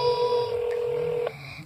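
A rapid string of telephone keypad tones sounds up close as a number is dialed, the beeps running together before ending in a short, higher tone.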